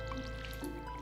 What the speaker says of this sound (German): Immer schön weiter gießen.